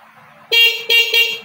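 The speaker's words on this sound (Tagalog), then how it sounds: "Testingin po natin yung kanyang stock na busina." Stock horn of a Rusi Rapid 150 motorcycle, honked four times in short bursts, loud, close and buzzy, after a moment of quiet with faint background noise.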